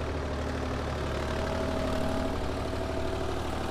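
A Mahindra Yuvo Tech Plus 275 tractor engine runs steadily at 1500 RPM in medium gear with a tiller attached, a loud, continuous low droning hum with an even throb and no talking.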